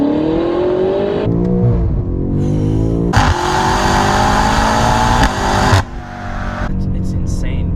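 A BMW F90 M5 accelerates hard, its engine climbing through rising pitch with distinct gear shifts between pulls, loud and close from inside the car, sustained throughout.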